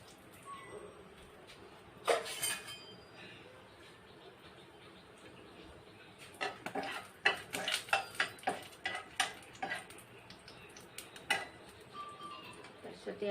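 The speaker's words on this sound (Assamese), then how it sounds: "এতিয়া মই ইয়াতে ডালচেনি, তাৰপিছত লং আৰু ইলাচি দিছোঁ।" Whole spices go into a pan for paneer gravy, cinnamon then cloves and cardamom, making light scattered ticks and clinks with a cluster of quick taps and scrapes of metal on metal, with quiet background in between.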